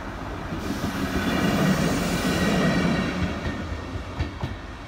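A rail grinding train hauled by locomotive 75 047 passes nearby, a steady loud rumble with clattering wheels and grinding noise swelling and easing over a few seconds, no talk.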